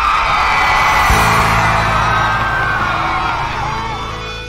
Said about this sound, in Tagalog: Alam ko naman yung mga dalaga na sumisigaw.